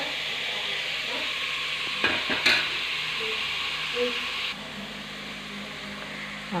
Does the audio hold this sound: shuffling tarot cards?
no